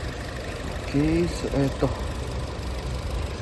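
A Honda Brio hatchback's 1.2-liter timing-chain engine idles in a steady low hum close by, while someone talks briefly over it.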